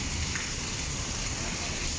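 Rain falling steadily in Laos during a week of continuous rain with flood risk, a soft constant hiss of drops close by with no clear voices.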